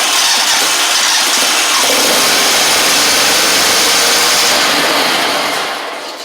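A Gravely 260Z riding mower engine cranks and runs steadily in the start position, a loud close drone that holds evenly, then fades slightly at the end, with no voices.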